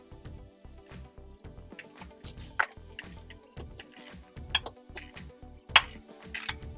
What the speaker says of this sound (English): this will continue to drip for a little while